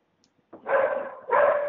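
A dog barks twice in quick succession indoors, two loud, close, rough barks after a near-silent opening with a couple of faint ticks.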